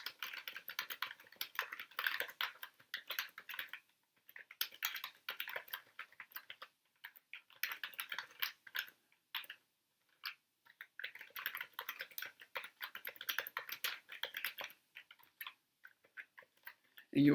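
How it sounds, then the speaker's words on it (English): Bursts of typing on a computer keyboard as Java code is entered, quick close clicking keystrokes in irregular runs with brief pauses between them, no talking. "Now I'm going to type in a bunch of mumbo jumbo."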